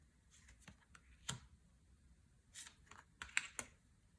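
Tarot and oracle cards laid down one by one, giving a few soft, scattered taps and clicks at close range in an otherwise quiet room.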